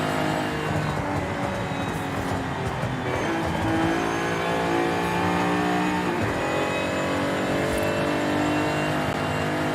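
A 1982 DeLorean DMC-12 pulls away and accelerates, its engine note climbing steadily through the gears, loud and close for the whole stretch with no talk over it.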